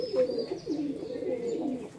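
A Giribaz pigeon coos steadily up close, a continuous bubbling, rolling murmur lasting throughout with a faint higher tone above it.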